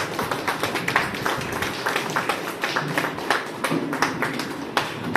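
An audience claps for a legendary doctor at a National Doctors' Day event, with a steady run of individual, distinct claps of fairly even strength throughout.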